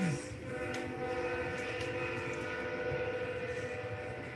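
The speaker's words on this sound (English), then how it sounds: "That's my train coming by over here in the back." A train rolls past in the distance, a steady low rumble of railcars with a sustained horn tone, faint and continuous with no talk in this stretch.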